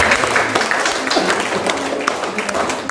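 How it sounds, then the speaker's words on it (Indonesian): Applause at an Indonesian film press conference for a cast reveal, scattered claps from a seated crowd running beneath ongoing talk, moderately loud and fairly even throughout. "Jadi kita harus tepuk tangan dulu."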